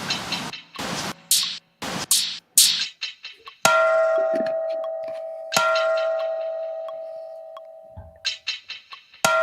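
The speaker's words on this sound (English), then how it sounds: "I kind of like that bell if it were longer and drawn out and more dissonant" A bell is struck twice, each ring a bright tone that fades slowly, with sharp clanks and knocks before and after the rings.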